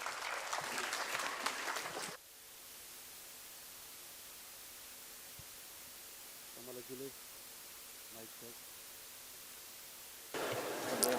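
Audience applause at a Losar celebration event in Delhi, a broad wash of clapping at the start that fades into quiet room tone and then returns briefly at the end.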